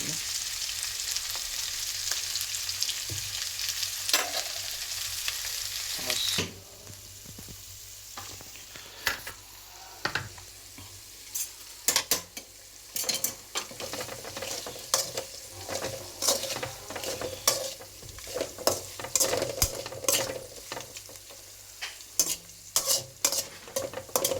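Ingredients for lemon rice are sautéed in a pan, with repeated sharp spatula scrapes and taps over a steady sizzle, close and fairly loud, with no talking.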